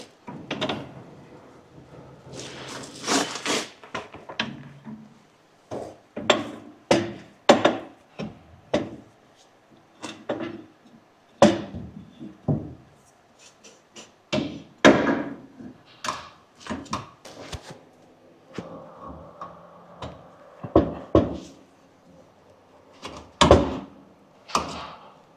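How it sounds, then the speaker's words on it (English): A Toyota Hilux rear leaf spring pack is lifted into place, producing a series of heavy metallic clunks, knocks and scraping thuds at an uneven pace, close by, with short pauses between. "Now we can lift our spring pack in."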